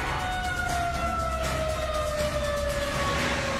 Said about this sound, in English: All around the metropolitan area, sirens wail, warning of imminent danger